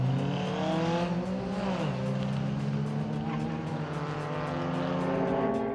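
Historic race cars, including a Shelby and a Porsche 910, roar around a road-course circuit, a steady loud drone of engines with pitch shifts as one car slows and gets back underway, no talk over it.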